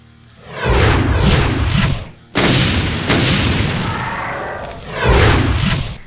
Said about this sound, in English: it can fire a short volley of 4 Revenant missiles